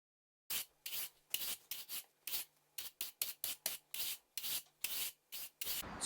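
Old grout raked out from between patio blocks with a scraper: a steady series of close, gritty scraping strokes in an even rhythm, each a short rasping burst with brief gaps, heard alone.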